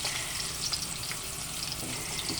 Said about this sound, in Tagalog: Nagsasatin na kami ng bawang, sibuyas, at kamatis ni Lamer